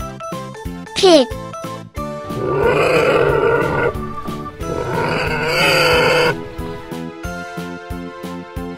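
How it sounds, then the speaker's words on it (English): A pig grunts and squeals in two long, rough bursts over a bouncy musical backing, with a brief sliding whistle at the start. "Pig."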